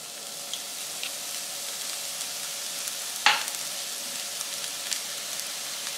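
A child stirring vegetable recipe ingredients produces a steady, hissing, scraping texture throughout, with one brief sharper scrape partway through, close by and fairly even in level.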